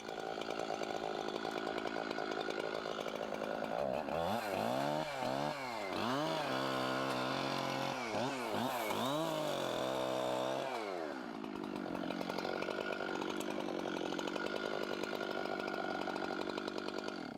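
A chainsaw runs steadily in snow during winter tree felling, its engine revving up and down several times in the middle before settling back to a constant idle drone.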